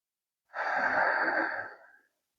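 A single long, slow exhale breathed out steadily for about a second and a half during a guided breathing exercise, close and fairly loud, fading away at the end.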